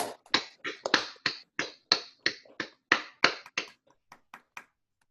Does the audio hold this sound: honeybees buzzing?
no